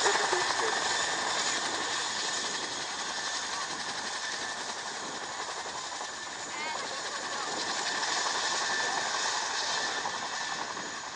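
An RAF Chinook helicopter moves into a hover at an air display, its rotors making a steady, fairly distant droning thrum while an announcer speaks over the sound.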